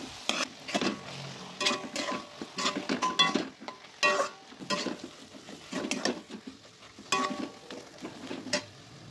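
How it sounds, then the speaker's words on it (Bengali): Potatoes with chili, cumin and coriander powder stirred in a pan, a series of close, rhythmic scraping strokes of a utensil against metal over light sizzling, with no talk. "আর একটু ভালো মতন আমি আলুটাকে নেড়ে নেবো।"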